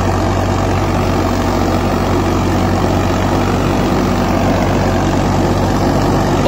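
A Farmtrack 60 EPI tractor running an 8 ft Landforce rotavator through soil gives a loud, continuous, close engine drone with a steady low rumble and no voices over it.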